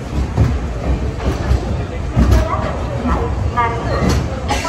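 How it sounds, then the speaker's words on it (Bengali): Passenger train pulling into Ratnagiri station, with a steady rumble and rattle of rail cars alongside faint squealing tones, while people talk nearby over the moderately loud station noise. "আমাদের ট্রেন এখন এসে পৌঁছালো হচ্ছে রত্নাগিরি স্টেশন"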